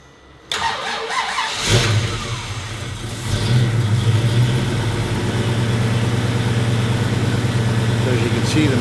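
A rebuilt 1968 Ford Mustang 390 FE V8 engine cranks, catches and settles into a loud, steady running rumble up close, with a brief rev midway and no talk.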